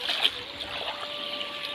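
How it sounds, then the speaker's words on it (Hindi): Floodwater flowing through a farm field in the hills, a steady soft trickling rush heard close and alone. "ये देखो इसमें तो इतना पानी बह रहा है"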